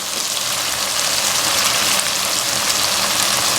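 Chicken pieces added to a spice masala that has been frying for five minutes hiss in the hot pan with a steady, loud, continuous sizzle and no voices.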